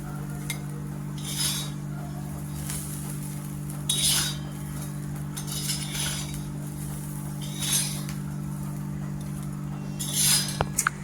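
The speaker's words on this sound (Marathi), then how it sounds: "त्याला आता आपण आहे ना प्लेटमध्ये मिरच्या काढून घ्यायच्या" Fried green chillies lifted from a pan onto a plate, with bright metallic clinks and scrapes of a utensil recurring every couple of seconds over a steady low hum.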